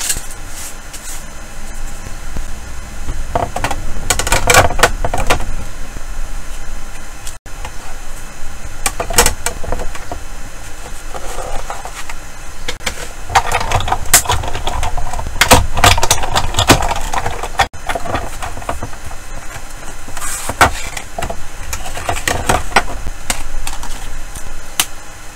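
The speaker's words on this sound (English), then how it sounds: "die cut machine" A die cut machine cranking paper through its rollers, a steady close grinding rumble with irregular clicks and rattles running throughout.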